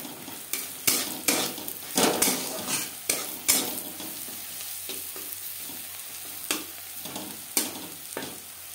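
Onions frying in oil for a Bengali sim boti (broad bean) dish, a steady low sizzle punctuated by repeated sharp scrapes and clinks of a spatula stirring the pan, close and moderately loud, with no talking.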